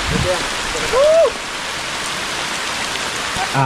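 Steady rain falls outdoors in a rural planted field, a constant even hiss of drops close by, with brief voices and a short whistle-like call rising over it.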